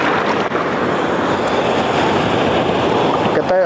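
Big ocean waves off Calaguas Island surge around a fishing spot in a steady, loud, continuous roar, with wind buffeting the microphone throughout.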